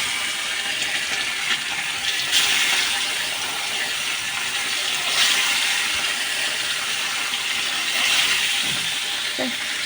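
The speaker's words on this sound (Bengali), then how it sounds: "আমি একটা একটা করে মাছগুলো দিয়ে দিই।" Fish laid one by one into very hot oil in a pan, giving a steady, loud, continuous sizzle and hiss with small swells, close up and with no talking.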